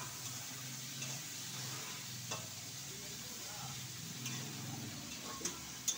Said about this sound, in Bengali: চিচিঙ্গা তেলে দিয়ে দিচ্ছি